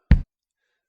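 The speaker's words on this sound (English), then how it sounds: "Like this drum here" A single short drum hit reproduced through a subwoofer, one deep, punchy thump that decays within a fraction of a second, followed by silence.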